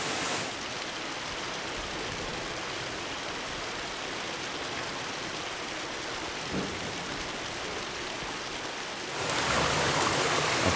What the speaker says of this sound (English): It's raining. We have the sea, the ocean.